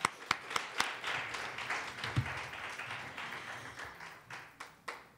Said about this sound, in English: So I want to give you all a clap because you deserve it